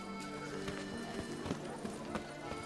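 Horses' hooves in The Witcher 3: Blood and Wine clop in a steady, moderately close rhythm over a constant ambient bed, with faint neighing mixed in.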